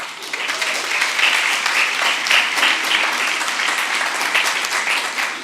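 A crowd claps steadily in a large room at a school district board meeting, a dense, even wash of applause that holds without breaks.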